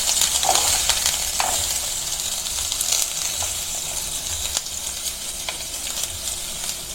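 Chopped onions sizzle in a frying pan for a Filipino batchoy Tagalog, a steady bright crackle with occasional clinks of a stirring utensil, close and continuous with no talking.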